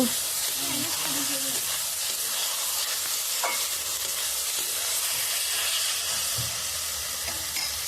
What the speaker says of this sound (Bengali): এবার এর মধ্যে টমেটোগুলো দিয়ে দিলাম দিয়ে আর একটু ভালো করে ভেজে নেব